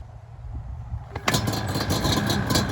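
A two-stroke Yamaha Banshee ATV catches on a single kick, with a sharp start transient around the midpoint followed by a loud, buzzy idle that continues steadily to the end.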